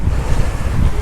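Waves and wind while sailing offshore on the Atlantic, a loud rushing wash of water with buffeting wind against the microphone, with no speech.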